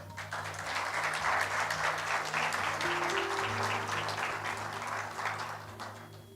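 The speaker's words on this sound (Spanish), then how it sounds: "Dale un aplauso al Señor." Congregation applauding during a church service, a broad wash of clapping that rises and holds steady, with a sustained keyboard chord humming underneath and no speech.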